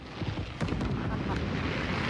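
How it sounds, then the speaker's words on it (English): Fireworks bursting over Chicago on New Year's night, heard as a dense, continuous rumble of distant booms and crackles that thickens after the first half second. A voice is faintly mixed in. "you can see the fireworks are just gorgeous"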